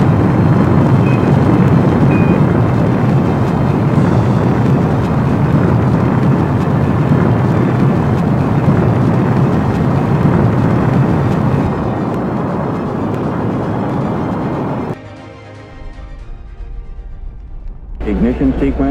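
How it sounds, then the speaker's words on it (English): A NASA Saturn V rocket's engines roar through liftoff, a loud continuous broadband rumble that thins toward the end as a voice calls out the launch. "We have liftoff. Liftoff at 7:51 a.m. Eastern Standard Time."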